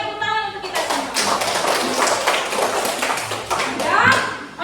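A class of fifth-grade schoolchildren claps their hands together in a classroom, a loud, dense burst of rapid clapping that runs steadily for several seconds, with children's voices mixed in.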